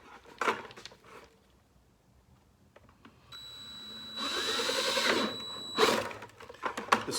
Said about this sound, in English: I'm simply going to take the 3/8 drill bit and drill motor and drill holes through